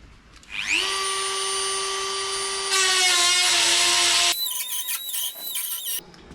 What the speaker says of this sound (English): just one of these little Dremels with little cut-off wheels